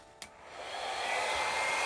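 A travel-size hair dryer blowing on its low setting over acrylic pour paint. A brief click, then a steady airy whir that builds up and holds, close and alone with no talk.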